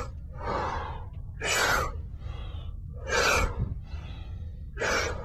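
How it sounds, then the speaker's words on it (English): Four deep, breathy inhales during a breathing exercise done with the neck bowed, each a rushing, airy draw of about half a second to a second, close and clear, separated by quieter pauses with soft breath. "you start, and you inhale like this."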